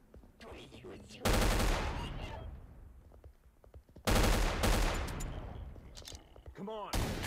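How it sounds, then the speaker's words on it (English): Two loud, booming shotgun blasts, about three seconds apart, each with a long decaying tail, fired in the horror video game Project Crypt; a few softer clicks and thuds fall between them. "We'll use a shotgun instead."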